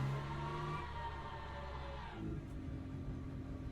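Race car engine held at full throttle in the sim racing game Le Mans Ultimate, a steady loud droning roar with layered harmonics that shifts pitch midway, continuous with no talking.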